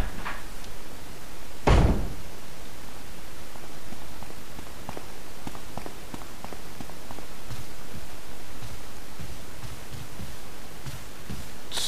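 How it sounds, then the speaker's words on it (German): A locked door in the GameCube remake of Resident Evil gives a single loud, sharp thud and rattle when tried, then a steady, noisy game ambience continues. "So, die Tür geht noch nicht auf."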